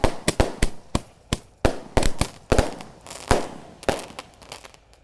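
Roman candle fireworks launch at a Takbiran night celebration, firing a quick series of sharp, loud cracks in an uneven rhythm. The shots are close together at first and spaced out more toward the end, with no talking.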